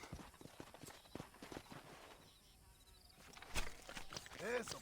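Horse hooves clip-clop in a rapid, close rhythm in the Western video game Red Dead Redemption, loud at first and then fading, with a short burst of louder noise near the end.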